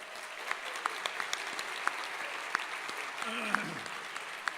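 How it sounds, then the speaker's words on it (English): Audience applause rising for a performance by the San Fernando Valley Taiko drummers, a steady wash of clapping from a large crowd with a voice briefly heard partway through. "please join us in a round of applause for the San Fernando Valley Taiko drummers"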